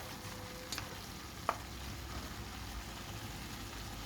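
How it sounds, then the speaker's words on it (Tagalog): Cabbage is stirred in a frying pan over a faint, even sizzle, with a couple of brief utensil clicks early on; quiet and without speech. "At haluin natin, guys"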